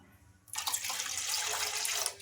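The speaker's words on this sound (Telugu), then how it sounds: "ఇంకా ఇప్పుడు ఇందులోకి 2 కప్పుల దాకా వాటర్ అయితే వేసుకోవాలి" Water poured from a tap into a kadai on the stove, a sudden rushing splash after a quiet start that runs steadily and then tapers off at the end.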